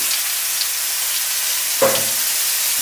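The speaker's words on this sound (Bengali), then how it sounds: "তেলটাও গরম হয়ে গেছে এবার আমি আলু আর সয়াবিন ছেড়ে দিলাম" Potatoes and soybean chunks hitting hot oil with dried red chilli and bay leaf: a steady broadband sizzle throughout, swelling into a sharper burst near the end as the pieces drop in, with no talking.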